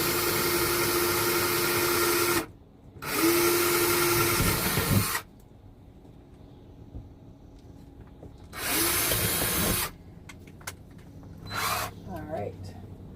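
Power drill pre-drilling holes for screws, heard in several loud whirring bursts of a few seconds each, separated by short pauses.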